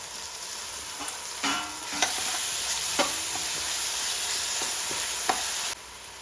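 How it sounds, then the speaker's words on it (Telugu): Masala of cumin, coriander seeds, pepper and fenugreek frying in oil with a steady sizzle, broken by several sharp stirring clinks and scrapes up close, with no voices. "మసాలా మొత్తము సువాసన వచ్చే వరకు ఇలా ఫ్రై చేస్తూ ఉండాలి"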